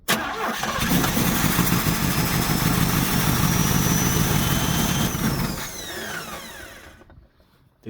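1968 Buick Wildcat 430 V8, after sitting for ten years, cranks and catches, then runs loud and rough close by for several seconds before fading down and cutting off.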